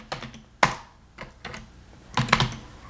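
Someone types Python code on a computer keyboard, producing a few close, crisp keystrokes and a short cluster of clicks near the end. There is no talk.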